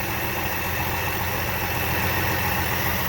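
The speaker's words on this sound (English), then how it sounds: "It runs, it idles, it doesn't leak." An old VC car engine idles steadily at close range, a continuous low rumble with broadband mechanical noise and no breaks or speech.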